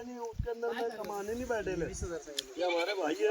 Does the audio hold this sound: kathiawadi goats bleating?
yes